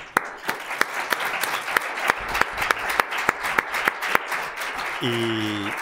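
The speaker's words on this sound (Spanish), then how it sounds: "me gustaría acabar esta sesión hoy con un aplauso para María José y Julen" A room of people applauds steadily with sharp individual claps standing out, then the clapping fades as a brief tonal sound enters near the end.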